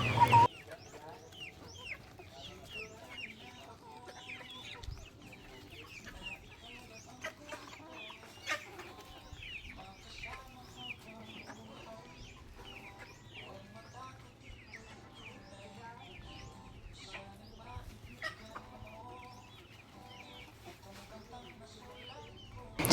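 Chickens cluck and chatter softly at close range in a backyard farm in the Philippines, scattered calls over a quiet outdoor background, continuing throughout.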